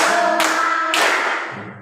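Children in a classroom clap together on a teacher's count, giving two loud unison claps about half a second apart, each leaving a ringing room tail, heard over a sustained voice.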